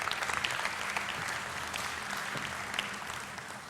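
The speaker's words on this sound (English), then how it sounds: "How about a great round of applause for all these companies?" An audience at a 2015 big data conference applauds sponsor companies with steady, sustained clapping from a large room that holds evenly for several seconds.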